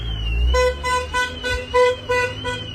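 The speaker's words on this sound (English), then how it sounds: "How he gonna honk his horn when he leave?" A car horn honks repeatedly in a rapid series of short, loud toots over a low engine hum from the road.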